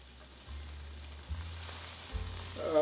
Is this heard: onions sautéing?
yes